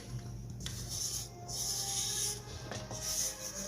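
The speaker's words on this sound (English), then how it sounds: "Just scrape the sides of the bowl as needed." A spatula scrapes the sides of a mixing bowl of keto cheesecake batter, giving soft, close rubbing strokes in a few uneven passes with no talk.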